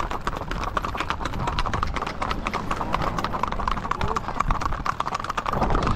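Many horses' hooves clip-clop steadily on pavement at a trail-riding gathering in Yauco, Puerto Rico, a busy, continuous patter with people talking and calling out over it.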